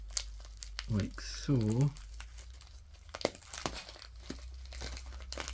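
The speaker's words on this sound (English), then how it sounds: "How do I open this up? Open it up here. And then just peel it" Plastic packaging on a model house kit crinkles and tears in short, close bursts, interrupted by a person's speech partway through.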